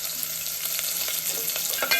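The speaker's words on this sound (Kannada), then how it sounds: "ಇಷ್ಟು ಮಾತ್ರ ಫ್ರೈ ಆಗಬೇಕು" Mustard seeds, cumin, onion and curry leaves fry in hot oil with a dense, close crackling sizzle, a steady bright hiss broken by quick pops and the scrape of a stirring spoon.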